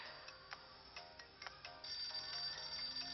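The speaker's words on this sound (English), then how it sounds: "Ring, ring." A telephone in the video game Hotel Dusk rings in repeated electronic bursts, steady and fairly faint, heard alone without talk.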